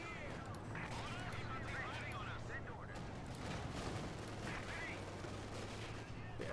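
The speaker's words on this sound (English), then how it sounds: "Shots there, fired off." Gunfire in the Company of Heroes 2 real-time strategy game, a Wehrmacht versus US Forces match: continuous crackling small-arms and machine-gun bursts mixed with distant rumbling blasts under the battle din.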